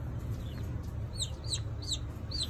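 Young chicks kept in a brooder give several soft, high chirping clucks in quick bursts, close by and fairly quiet over a low background hum, with no talking.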